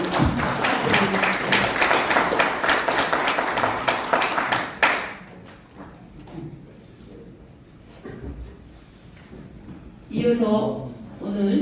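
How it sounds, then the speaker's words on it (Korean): Attendees at a symposium in a small National Assembly meeting room give a burst of lively applause that lasts about five seconds and then dies away, followed by quiet room noise and a voice starting to speak. "이사장님 의원님께 다시 한번 감사의 박수 부탁드립니다"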